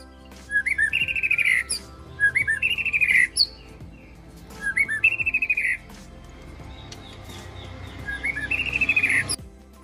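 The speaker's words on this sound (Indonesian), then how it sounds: "Ini di rumah kita ini banyak sekali nih burung murai batu, dia mau merespon." White-rumped shama (murai batu) songbirds sing near a house in repeated bright, warbling phrases: four distinct bursts about two seconds apart over a quiet background.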